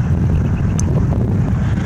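Wind on the coast buffets an outdoor microphone, making a constant low rumbling roar with uneven gusty pulses that stays loud the whole time, and no one speaks.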